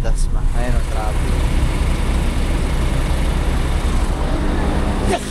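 Continuous road traffic heading into Dasmariñas, a dense rumble of engines and tyres heard steadily from inside a vehicle, loud and unbroken for several seconds.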